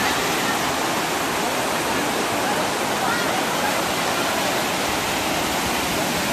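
Monsoon water rushing down the steps of Bushi dam in Lonavla, a loud, dense and unbroken roar that fills the whole clip.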